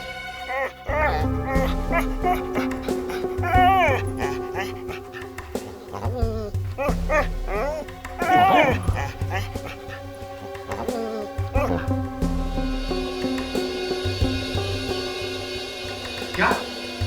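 An injured dog whimpers and yips in short pitched bursts, mixed with a steady buzzing hum and other noise, carrying on fairly close throughout.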